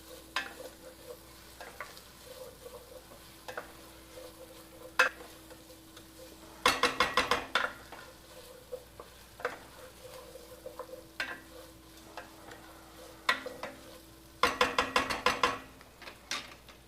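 Onions fry in a pan with a sprinkle of kosher salt under a low, steady sizzle, broken by two bursts of scraping, rattling stirring; no one speaks.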